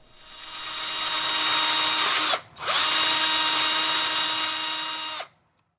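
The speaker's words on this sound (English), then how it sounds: "drill a 1/4-inch hole for the wires." A power drill whines steadily at high speed drilling a 1/4-inch hole, stops for a split second, then spins up again for a few more seconds before cutting off.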